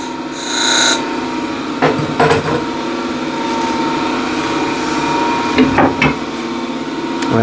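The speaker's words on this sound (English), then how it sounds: "And hollowing again." Wood is hollowed on a lathe with a continuous scraping, rasping hum, the tool catching in several short louder bursts against the spinning bowl.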